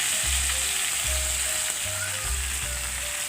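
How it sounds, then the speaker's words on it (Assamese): Fish fries in hot oil in a wok, making a loud, constant crackling sizzle with a steady hiss, joined by a low repeating hum throughout. "ইয়াতে মই মাছখিনি অলপ ভাজি লওঁ"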